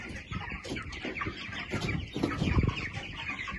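Broiler chickens on a farm cluck and chatter continuously nearby, a busy overlapping flock at moderate loudness with no talking.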